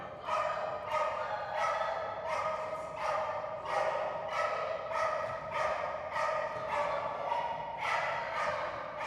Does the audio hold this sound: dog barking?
yes